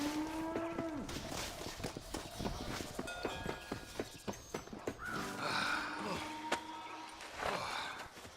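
Cattle low in a Red Dead Redemption herding scene: a deep moo rings out near the start amid steady hoof thuds and footsteps, with a few faint voices and horse sounds around the herd.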